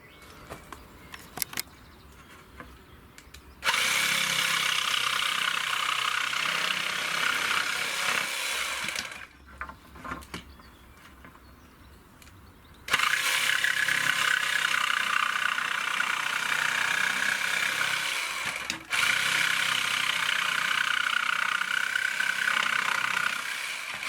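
Steady, loud rasping of a saw cutting wood in long continuous runs, pausing briefly between cuts, with no talking.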